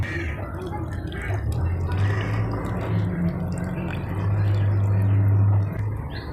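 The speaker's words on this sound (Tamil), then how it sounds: "இப்போ வந்து நம்ம புளிக்கரசல் சேர்த்துருக்குறோம்" Tamarind extract poured into a pot of simmering vegetable sambar gives a steady, close wash of liquid splashing and bubbling. The sound runs continuously and swells slightly toward the end.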